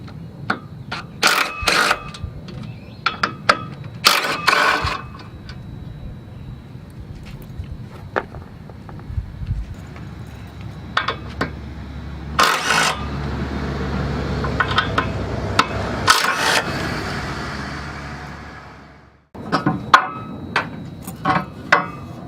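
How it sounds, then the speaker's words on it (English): A ratchet is used to remove a car's strut tower brace, with scattered close metallic clicks and clanks, then a steadier stretch of ratcheting and handling noise before the clicks resume. "first thing we need to do is take off the strut tower brace"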